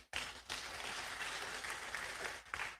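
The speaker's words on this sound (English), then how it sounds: "A round of applause." An audience breaks into steady applause at a media launch, a dense burst of clapping lasting a few seconds before briefly dropping and resuming.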